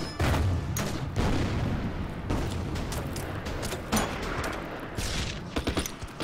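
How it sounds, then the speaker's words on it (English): Artillery and gunfire from a strategy war game: a rapid series of loud, booming blasts and crackling shots that overlap one another without a break, with no voices. "Firing on that destroyer."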